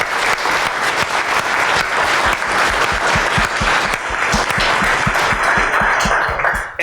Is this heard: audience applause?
yes